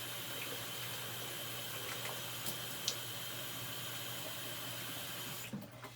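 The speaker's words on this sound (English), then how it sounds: "We fill up our buckets." Hot tap water runs steadily into buckets, a continuous mid-level splashing hiss with a constant low hum underneath and a few faint clinks, ending in a brief bump of handling.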